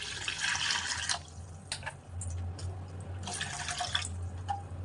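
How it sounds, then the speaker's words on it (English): Water running into a cooking pot of chopped herbs, a faint close splashing and trickling stream in short bursts with pauses, without talk. "Then add water on it."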